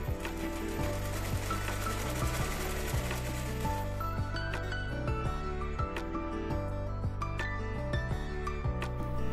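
A sewing machine stitches a straight seam on a blouse, a steady mechanical whirring with regular needle ticks running close and continuous, without talk.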